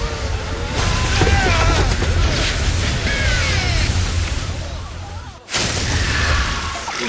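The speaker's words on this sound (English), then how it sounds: "it ends anticlimactically with Casper exploding" A loud, sustained blast as the cartoon ghost Casper explodes after eating a bomb, rumbling heavily before cutting off abruptly and then returning, with voices heard briefly.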